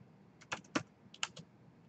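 A computer keyboard shortcut tapped out in a quiet room, a quick cluster of soft key clicks followed by a few more presses, faint and close.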